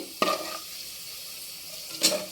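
Onions fry until brown in a pan for chicken fry biryani, with a soft sizzle marked by two brief bursts of stirring scrapes at the start and end, close and moderately quiet.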